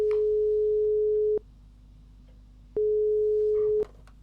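Two steady electronic phone ringback tones from a point-and-click adventure game, each lasting over a second with a pause between, clean and alone with no talking.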